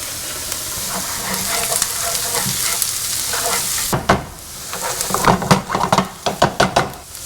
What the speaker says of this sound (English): cook the onions until they become translucent